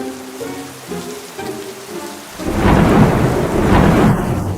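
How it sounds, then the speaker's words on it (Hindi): Simulated rain and thunder over a beach enclosure for animals, first a quieter patter, then a loud rumbling downpour that swells midway and keeps roaring to the end. "मैंने लाइट्स बंद कर दी और बारिश शुरू कर दी।"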